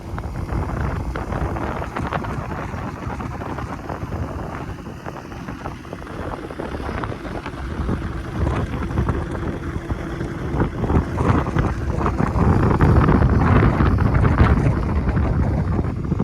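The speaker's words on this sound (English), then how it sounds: "The wind's kind of to our back now" Wind blowing outdoors beside a catfish farm pond, a steady rushing buffet of gusts against the microphone that swells louder toward the end, with no talk.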